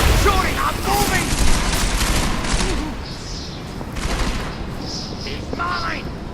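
Heavy gunfire rattles through a Deus Ex: Mankind Divided firefight, rapid bursts and booms overlapping almost continuously, with voices shouting over the shooting.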